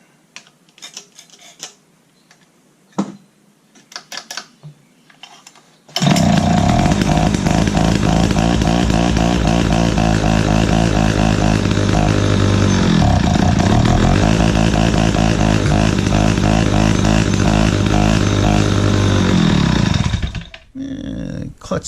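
A Pioneer 620 chainsaw engine starts after a few clicks and handling noises, then runs loud and close at a steady rough idle with a brief dip partway through before it cuts out.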